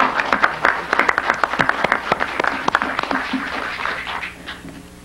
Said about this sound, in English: I'd like to ask everybody to give these ladies and gentlemen an applause